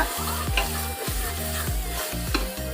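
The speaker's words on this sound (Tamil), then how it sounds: "பிரியாணி மசாலா, நல்லா கலக்குங்க. கிளறிட்டே இருங்க அடி பிடிக்காம." Biryani masala and coriander powder being stirred in a pot, a steady rhythm of scraping spoon strokes over a continuous low sizzle, close and fairly loud with no voices.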